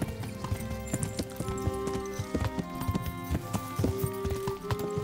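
Horse hooves clip-clop at a brisk pace as a rider travels in the medieval video game Kingdom Come: Deliverance, a steady rhythmic clatter with faint music-like tones underneath and no talk over it.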